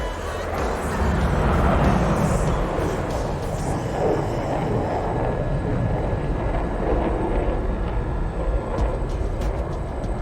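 A virtual Su-27 jet flies an airshow demo in the DCS flight simulator, giving a continuous loud roar of engine noise that swells slightly before holding steady, with a voice faintly under it.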